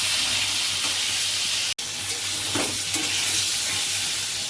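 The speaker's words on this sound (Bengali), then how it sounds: "পটলটা একটু ভালো করে ভেজে নেব।" Pointed gourd (potol) pieces frying with turmeric in a hot pan, a continuous broadband sizzle with occasional stirring scrapes, close and steady throughout.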